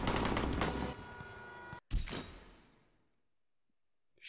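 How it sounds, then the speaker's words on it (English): Gunfire in a Henry Stickmin game chase, shots from a moving vehicle: a dense, loud volley of game gunshots for about a second, a short break, then another burst that fades into a long quiet tail. "Shooting from a moving vehicle is actually really hard, especially if you're supposed to be driving."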